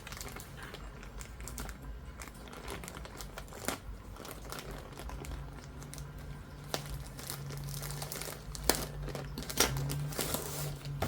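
Plastic crochet kit packaging for a Moroccan tile afghan being cut and pulled open, a steady run of close crinkling and rustling with a few sharper snips and tears, no talking.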